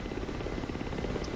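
Rotor and turbine drone of a Ka-50 Black Shark attack helicopter in the DCS flight simulator, a steady pulsing chop held at constant loudness throughout with no talk over it.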